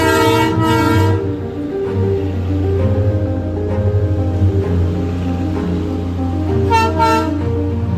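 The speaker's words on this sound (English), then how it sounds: "That sound of the steam engine locomotive" A Darjeeling Himalayan Railway steam locomotive toy train rumbles steadily with a deep engine drone, and a horn toots briefly at the start and again near the end.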